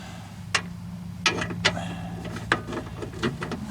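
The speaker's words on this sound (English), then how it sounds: "I'm going to tighten them up a little bit with a socket wrench." A socket wrench ratchets in short bursts of clicks while tightening 15 mm frame bolts on a 2006 Chevy HHR during a lower control arm replacement, close and fairly quiet.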